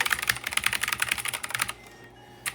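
Rapid, loud keystrokes clatter on a Black Shark gaming keyboard in a close, dense burst that stops abruptly, followed by near quiet and one last isolated key hit.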